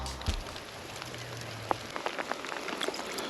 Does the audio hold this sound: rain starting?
yes